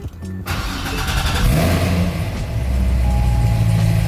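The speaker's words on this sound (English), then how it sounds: "about to head out, drive it off of the dyno" A semi-stock Corvette engine fires up and pulls off a dyno, a sudden loud start settling into a deep, rumbling idle and rising revs, close and continuous with a low droning growl.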